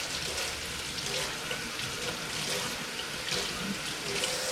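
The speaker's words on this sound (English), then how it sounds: "And we're gonna wash our hands" A kitchen tap runs steadily into a sink while hands are washed beneath it, a close, even rush of water with small splashing changes throughout.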